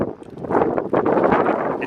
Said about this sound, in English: It's a really windy day out here